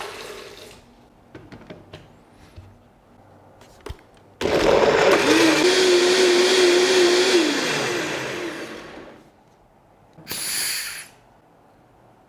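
A vacuum blender's motor roars up loudly for several seconds with a whirring whine, then winds down; faint clicks before it and a short hiss after.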